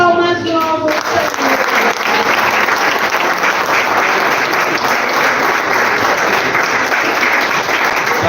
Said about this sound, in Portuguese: E as palmas louvam.